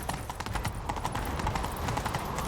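A horse gallops in The Witcher 3 video game, its hooves pounding in a fast, even clip-clop rhythm that stays close and loud throughout.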